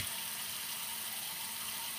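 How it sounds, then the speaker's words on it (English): Water runs from a sink tap in a faint, steady hiss that lasts the whole brief moment, with nothing else heard. "I'm going to turn on the water, get it to a nice comfortable temperature"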